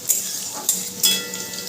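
Garlic sizzles in a pan as it is stirred, with three sharp utensil clinks against the pan standing out over a soft, steady frying hiss.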